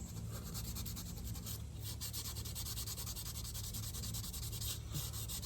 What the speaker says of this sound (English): Sand that down flat.